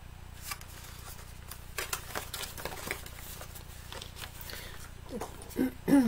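A bone folder creases the folds of a paper box, making dry scraping and crinkling strokes in irregular bursts, close and fairly quiet, with a louder rustle at the end.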